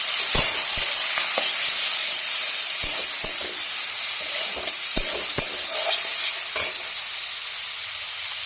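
Fish sizzles and fries in a hot pan for Bengali home cooking, a steady bright hiss with scattered crackles and pops throughout, close and fairly loud with no talking.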